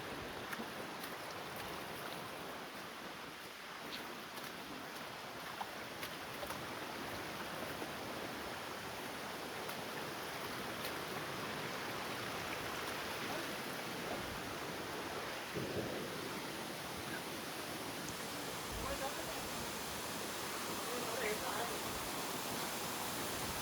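A waterfall pours down onto rock on a rainy monsoon trek to Visapur Fort, making a continuous broad rushing roar that stays fairly even, with faint voices now and then beneath it.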